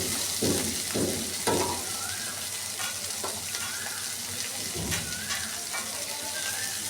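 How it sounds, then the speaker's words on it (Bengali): Diced pumpkin and bottle gourd with green chillies frying and sizzling in hot oil in a pan, a steady crackle with a few louder bursts as the vegetables are stirred, close and continuous with no talk. "আমি কুমড়োটা দিয়ে আর লাউটা একসাথে দিয়ে ভেজে নেব।"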